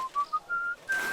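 A character whistles a short tune in the medieval role-playing game Kingdom Come: Deliverance II: a few clear rising notes, quiet and close, with brief gaps between them.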